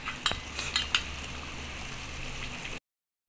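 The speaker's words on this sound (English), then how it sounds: "we're gonna mix it slowly until it mixed well" Biryani ingredients are stirred slowly in a pot, giving a few light metallic clinks and scrapes of a spoon against the pot early on, with soft steady cooking hiss underneath.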